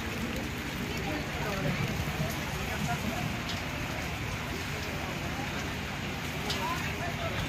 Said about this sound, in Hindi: पूरा बहुत प्रबल वर्षा देखन